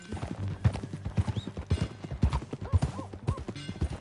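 Horse hooves clip-clop in an even rhythm in Red Dead Redemption 2, close and clear, with a few brief soft tonal calls over the steady hoofbeats.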